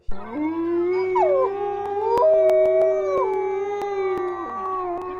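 Several wolves in a captive pack in Inner Mongolia, northern China, howl together in long overlapping rising and falling tones, loud and sustained, with a few sharp clicks.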